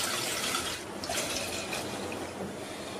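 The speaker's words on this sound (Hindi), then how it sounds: "इसमें एक कप पानी डाल देंगे, एक लीटर बिना क्रीम का दूध डालेंगे।" Water and skimmed milk being poured into a cooking pot to make a homemade Amul Kool–style milk drink, a steady continuous liquid splash and gurgle that holds fairly loud for about three seconds with no talking.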